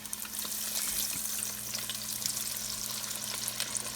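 Battered fish for tacos deep-fries in hot oil in a fryer, a steady close sizzling and bubbling hiss with small crackles throughout.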